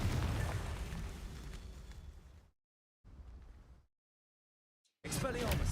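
Confringo spell blasts in Hogwarts Legacy land as loud rumbling explosions, one long booming burst fading out, a shorter one after a brief silence, then another loud hit starting at the end.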